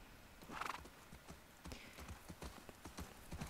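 Horse hooves clopping in The Last of Us Part II, a brisk run of hoof beats with a loud burst early on, steady and close.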